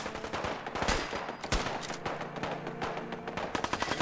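Rapid-fire gunshots from a quick-firing weapon in Fallout 4 crackle in dense, uneven bursts, loud and close, with sharp individual reports punctuating the stream.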